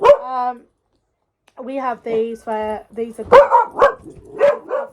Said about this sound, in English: I'm really sorry for the dog.